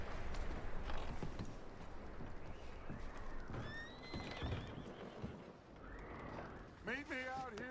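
Horses whinny and neigh with hooves clopping nearby as they are packed, several calls rising and falling over background noise, while a voice talks intermittently.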